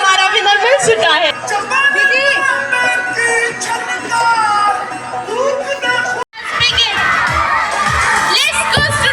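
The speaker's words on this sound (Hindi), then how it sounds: "We can hear the cheers already." Students at a school event cheering and shouting together, a loud, continuous mass of high children's voices with whoops and yells, briefly cut off once before resuming just as loud.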